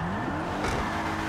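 A car drifts in the GTA 5 video game, its engine droning loud and steady with a rising tire squeal and revving throughout.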